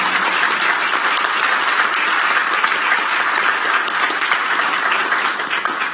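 Sustained applause from a crowd at a Sacramento County Board of Supervisors oath ceremony, steady and dense throughout, loud and filling the room with no break.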